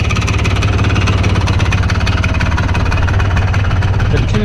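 A two-stroke dune buggy engine, CR250-type, runs steadily and loud, a dense rapid buzzing putter with a strong low drone that holds without a break.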